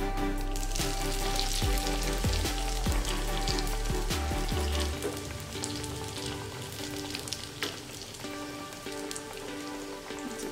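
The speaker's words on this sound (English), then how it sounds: "in hot boiling oil we fry our nuggets" A dense, steady sizzle of potato nuggets frying in hot oil with crackling bubbles, loud and close, after a few brief knocks at the start.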